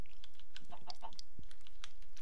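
Chickens cluck in the Minecraft video game: a few short, soft, chirpy clucks scattered over about two seconds, with no talking.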